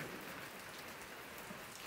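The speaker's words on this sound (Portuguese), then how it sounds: "mas ainda continua chovendo, ó." Steady rain falls in the rural backland of Paraíba, a soft, even hiss of drops on surfaces, heard from close by at low volume with no voices.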